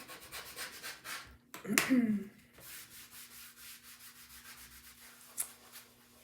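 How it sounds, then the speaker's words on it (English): Scraping excess chalk paste off a Chalk Couture stencil board, a short rough rubbing burst followed by lighter intermittent scrapes, close and fairly quiet. "wipe up some of the excess here. Scrape a little bit more over here,"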